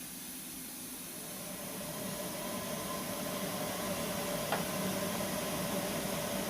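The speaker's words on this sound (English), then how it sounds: "Let's turn on the blower motor. It will get a bit noisy again." A car heater box blower motor runs steadily, a broad airy whoosh with a faint whine that builds slightly louder after the first couple of seconds, with a brief knock partway through.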